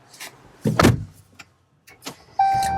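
A 2016 Jeep Cherokee Trailhawk 4x4 is started by push button from inside the cabin: a few clicks and thumps, then the engine catches into a steady close hum with a thin electronic chime tone over it.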